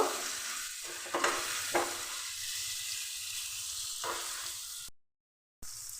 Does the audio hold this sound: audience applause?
no